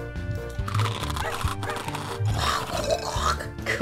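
Wet, squelchy chewing and grunting sounds repeat in quick bursts, close and messy, like exaggerated game sound effects from the dog idle clicker game Ruff Times.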